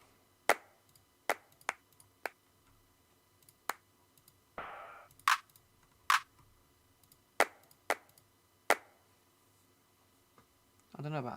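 A clap sample for music-making, roughly a dozen sharp, dry single hits spaced irregularly, fairly close and crisp, with a short louder burst near the end.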